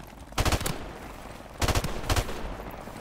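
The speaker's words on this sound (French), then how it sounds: "Hélicoptère ennemi en approche." Bursts of rapid automatic gunfire from video game combat, with two loud clusters of shots roughly a second apart, then a pause and a third burst, over a steady background rumble with no talk.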